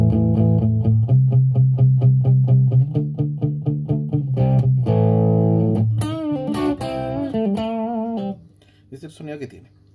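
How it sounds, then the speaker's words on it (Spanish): Electric guitar through a Line 6 HD500X British 45 amp model with a Greenback 25 4x12 cabinet, playing distorted rhythmic chords and a short melodic phrase, loud and upfront, ending in a few clipped notes. "el amplificador por defecto viene con una caja con Greenback 25 4x12 y suena así."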